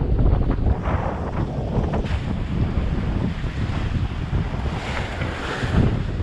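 Strong wind of about 17 knots at sea during a night sailing passage aboard a sailboat, steady loud gusting buffeting against the microphone with surging waves and water noise, no talk.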